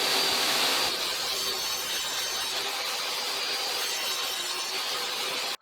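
A circular saw cuts a groove in a wooden workpiece, giving a loud, continuous whining buzz. The sound holds steady and close for several seconds, then cuts off abruptly at the end.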